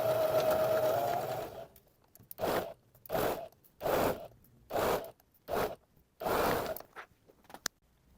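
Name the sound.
sewing machine stitching a blouse yoke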